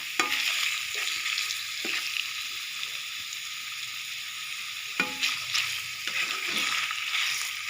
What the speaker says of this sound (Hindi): इसको अच्छी तरह से ज़रा फ्राई कर लें।